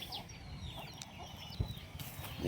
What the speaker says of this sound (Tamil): இதுதான் ஏகப்பட்ட குஞ்சு பொறிச்சிருக்கு